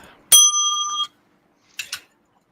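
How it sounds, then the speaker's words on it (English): A hand bell gives one bright, sustained ring that lasts most of a second. After a pause come two quick, softer strikes. The bell sounds close and is heard alone against silence. "Where's my bell?"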